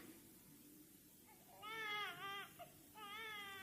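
Something crying in the reeds by a riverbank in a Slovak audio fairy tale, two faint, wavering, baby-like wails close together over a quiet low background hum.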